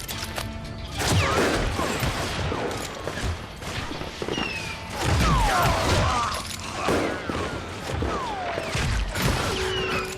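Gunfight in Call of Juarez: Gunslinger, repeated loud gunshots in irregular bursts with crashes and clatter, dense and close, with shouting voices mixed in.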